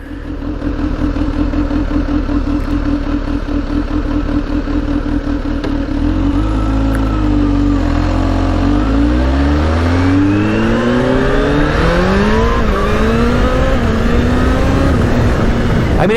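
A Kawasaki Z H2 motorcycle pulls hard at half throttle through first and second gear, its loud engine note climbing in pitch, dropping at a shift, then rising again close by.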